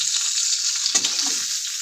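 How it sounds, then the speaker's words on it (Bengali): Fish fries in hot oil with a loud, close, continuous sizzle; a brief burst of scraping or stirring comes about halfway through, and no one speaks. "মাছ ভাজা আমার হয়ে গেছে,"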